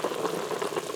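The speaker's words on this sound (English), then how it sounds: "You can tell by the size of the bubbles and the sound that my sauce, my braising liquid, is reducing quite nicely." Soy sauce and honey braising liquid bubbles steadily as it reduces in a pressure cooker pot with pork belly, a close, soft simmering burble that runs without pause.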